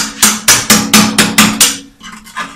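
A knife handle used as a hammer strikes repeatedly while fixing a leaking butane gas stove, seven loud, sharp, evenly spaced knocks followed by a few fainter taps, close up with no talk.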